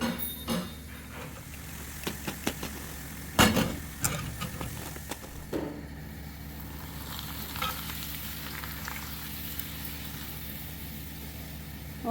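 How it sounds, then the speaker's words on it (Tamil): Vada frying in hot oil in a home kitchen, a steady sizzling hiss with occasional clinks and knocks of a utensil against the pan, no talking. "வடைலாம் சுட்டுட்ருக்கேங்க வடை வடை போட்டாச்சு"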